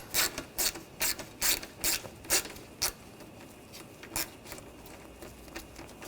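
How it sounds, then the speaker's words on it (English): A hand ratchet fitted with a 10mm socket turns a bolt out of a 2013-2022 Buick Encore during AC condenser removal, giving several quick clicking bursts in a loose rhythm, close and clear with no talking. "take this bolt out, same 10mm socket"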